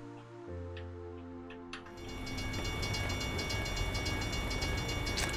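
A train rumbles past a railroad crossing in American Truck Simulator, beginning after a few crossing tones and building into a loud, continuous rolling roar with rhythmic clatter that lasts to the end.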